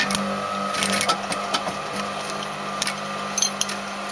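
A sewing machine stitches a lapped zip seam with a steady motor hum, and the clicking of the needle comes through close and fairly loud with a few brief pauses and sharper taps.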